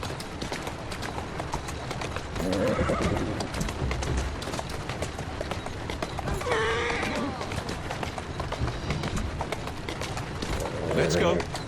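A horse's hooves clip-clop steadily at close range with a continuous rustling, scuffing rhythm, broken by a few brief neighs or snorts, while a voice talks intermittently over it.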